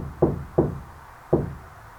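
Three hollow knocks on the back panel of a VW Crafter van partly covered in sound deadening, two close together and then one after a pause, each dull and short with a quick decay.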